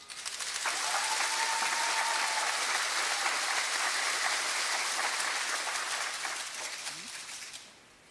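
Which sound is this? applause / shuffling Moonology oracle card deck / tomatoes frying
applause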